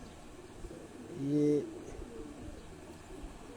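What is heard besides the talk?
pigeons cooing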